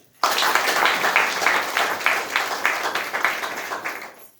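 A crowd breaks into loud, sustained applause, dense clapping that starts suddenly and slowly tapers off.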